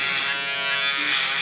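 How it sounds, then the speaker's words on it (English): An electric shaver buzzes steadily and close up while cleaning the lines of a skin fade haircut, a continuous bright hum with slight changes in pitch as it moves, with no talk. "I usually put the shaver in an angle like this, so it takes the shaver line off"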